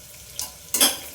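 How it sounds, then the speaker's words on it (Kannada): Onion frying in a pan in a home kitchen, a short hiss of sizzling oil with a stirring scrape partway through and a louder burst of sizzle near the end, with no talk. "ಈರುಳ್ಳಿ ಸ್ವಲ್ಪ ಫ್ರೈ ಆಗುತ್ತಲ್ಲ"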